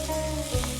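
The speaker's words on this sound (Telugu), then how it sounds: "మష్రూమ్స్ అండ్ టోఫుని మనం ఫ్రై చేసేసుకున్నాము" Mushrooms and tofu frying in a pan until crispy for Chinese chopsuey, a soft steady sizzle with a low background hum and one brief clatter near the end, no talking.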